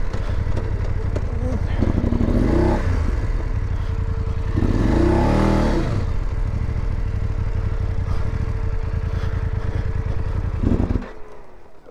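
A 2022 BMW F850GS Adventure, a big top-heavy 540-pound motorcycle, rides uphill with its engine droning loudly throughout, swelling into a stronger rev midway before easing off and cutting out near the end.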